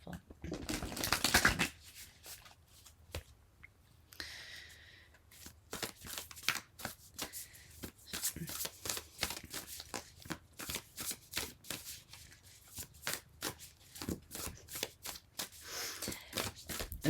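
Tarot cards are shuffled repeatedly up close, a series of quick riffling bursts and soft slaps with short pauses between, fairly quiet overall.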